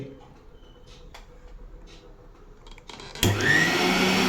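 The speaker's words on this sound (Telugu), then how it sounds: "మిక్సీ రన్నింగ్ అవుతుంది" A repaired mixer grinder is switched on after about three seconds of quiet, low room noise, then its motor roars into a loud, steady, high-pitched whine close by.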